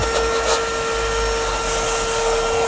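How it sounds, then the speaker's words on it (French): A compressed-air blower hisses steadily while dusting out the interior of a 14-year-old car, a loud, continuous rushing with slight swells and no talk. "Donc là, je passe un coup de soufflette."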